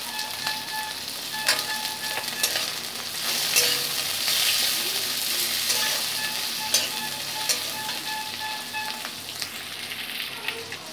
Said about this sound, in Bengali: পেঁয়াজটাকে একটু ভেজে নিয়ে দিয়ে দেব টমেটোটা, কাঁচা লঙ্কাটাও দিয়ে দিচ্ছি